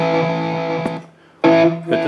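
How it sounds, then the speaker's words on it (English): Electric guitar run through the digital delay effect in JamUp Pro amp-modelling software, two sustained distorted phrases separated by a short gap where a faint echo tail lingers. "We've got digital delay."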